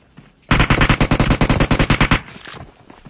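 Automatic gunfire in the PUBG Mobile game rings out as a loud, rapid burst of about twenty evenly spaced shots lasting nearly two seconds, followed by a brief rattle and then quiet.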